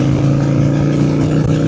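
A Honda Shadow 750 Spirit cruiser motorcycle engine pulling hard in gear without a downshift, a loud, steady low droning rumble that holds its pitch over a brief stretch.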